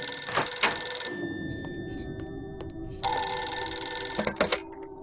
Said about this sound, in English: Could someone please answer the phone already?